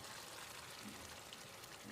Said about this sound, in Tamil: இப்போ இதில் நம்ம அரைச்ச பேஸ்ட்டை ஊற்றிடலாம்.